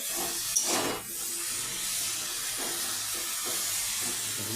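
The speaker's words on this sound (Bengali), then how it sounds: "এরপর আমি এই সবজিগুলোকে খুব ভালোভাবে নেড়ে চেড়ে ভেজে নিচ্ছি।" Vegetables frying in a pan with turmeric for Bengali shukto, a steady hiss and sizzle running throughout at moderate level, with a brief louder spatter near the start.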